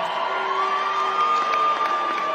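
A large arena crowd at the Kia Forum booing Kim Kardashian: a loud, sustained wall of massed voices with a steady droning tone, filling the whole stretch without a break.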